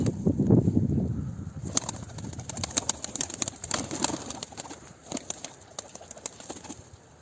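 Low, soft pigeon cooing close by, with occasional wing flaps and bird calls scattered through the background.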